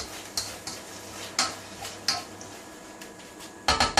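Vegetables and chicken for chow mein being stirred in a pan, heard as scattered light clinks and scrapes of a utensil against the pan, with a quicker burst of clatter at the end, fairly quiet.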